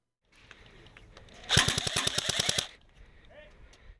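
An ICS Captain CXP-UK1 airsoft gun fires a rapid semi-auto burst of about a dozen sharp, evenly spaced snapping shots up close, lasting just over a second, with quieter handling noise before and after.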